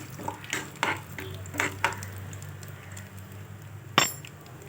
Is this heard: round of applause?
no